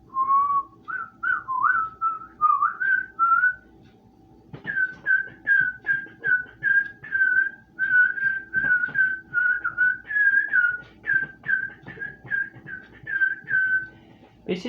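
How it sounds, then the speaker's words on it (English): A person whistles the SpongeBob SquarePants whistle tune, a close, loud run of bright warbling notes in two phrases with a short pause between them, no voice over it. "then you can even do his whistle, which is actually pretty easy"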